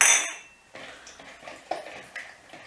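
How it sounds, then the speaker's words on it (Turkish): A spoon stirs yeast, salt and warm water in a bowl for gözleme dough, giving a few light, irregular clinks and taps against the bowl, close and fairly quiet after a brief sharp rattle at the start. "Karıştırıyorum."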